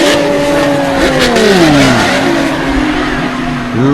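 Drift cars at full throttle in a Drift Kings tandem battle, an LS V8 against a Toyota 2JZ straight-six, engines screaming loud and close with pitch sweeping up and down through the revs.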